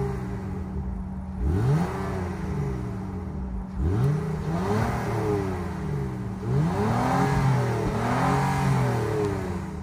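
A 2022 Honda Pilot Touring's 3.5-liter VTEC V6 is revved repeatedly while parked, each blip rising sharply in pitch and falling back to idle, several strong revs spaced across the clip with no talking.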